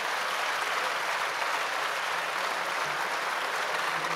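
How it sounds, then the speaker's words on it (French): A seated audience applauds to welcome a speaker at a French debate on government economic and social policy, dense even clapping at a steady level throughout the short stretch. "Je vous remercie beaucoup de m'accueillir par ces applaudissements."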